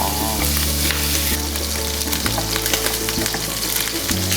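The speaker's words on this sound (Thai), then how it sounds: "ค่อย ๆผัดนะครับให้ตัว หมูเนี่ยมีความเกรียมขึ้นนะครับ" Pork is stir-fried in oil until browned for a Thai gaeng sam rot curry: loud, dense crackling sizzle with scraping stirs, and steady tonal hum layered underneath, no speech.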